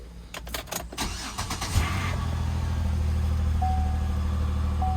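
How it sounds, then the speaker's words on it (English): A used car with leather interior and about 182,000 miles cranks and starts, a few sharp clicks and rising cranking giving way to a steady, loud engine idle that continues to the end. "Let's start her up and see."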